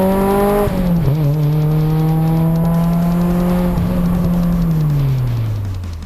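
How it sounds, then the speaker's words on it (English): A car engine revs hard with VTEC down a street, loud and close, its pitch climbing then holding steady before dropping away, with no talking. "This is just to show the car doing VTEC down the street."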